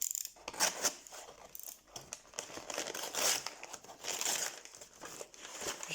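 A parcel from Amazon is unwrapped carefully by hand without tearing, giving close crinkling and rustling of packaging in uneven bursts, with no voices.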